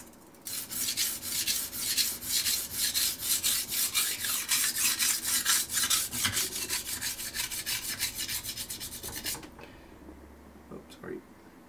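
A kitchen knife is stroked repeatedly across a Shapton Pro whetstone, a steady series of close, rhythmic rasping passes for about nine seconds before stopping, followed by a few faint handling taps.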